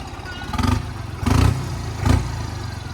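A New Holland 3630 tractor's diesel engine chugs nearby, surging louder in three rough pulses against a steady idling rumble.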